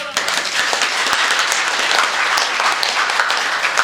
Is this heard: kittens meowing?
no